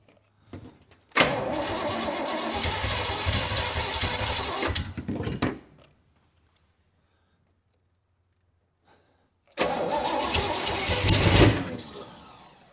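An engine that keeps misfiring, seemingly on only two cylinders, cranks and sputters in two loud, uneven bursts of roughly four and three seconds, separated by several seconds of silence.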